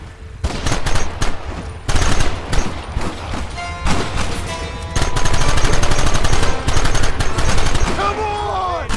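Rapid gunfire from a Red Dead Redemption shootout: dense, loud volleys of overlapping shots and bursts that run almost without pause throughout.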